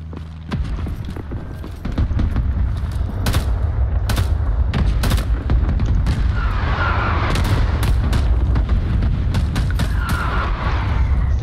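Battlefield gunfire and artillery in Rising Storm: Attack on Saigon, a Vietnam War street fight: many sharp shots, some near and some distant, over a constant low rumble of barrage and booms.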